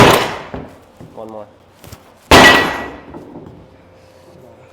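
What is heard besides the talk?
hammer hitting a woodworking joint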